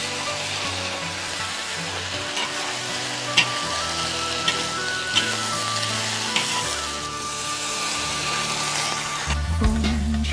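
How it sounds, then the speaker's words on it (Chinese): Sliced cured pork stir-fried in a wok at a rural farmhouse, a steady close sizzle and crackle broken by sharp clicks of a utensil against the pan and a louder burst of hissing near the end. "干养一片片炒腊肉，腊肉炒一下，再用水倒一点"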